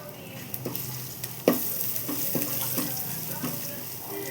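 Ground spice paste for chicken biryani drops into a hot pan and fries, with a louder thud near the start followed by steady sizzling and a few soft scraping stirs, no one speaking.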